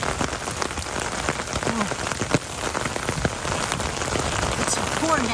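Heavy rain pours down outdoors beside a flooded creek and culverts during flash flooding, a dense, steady hiss of drops hitting surfaces throughout, with a brief exclamation from a person.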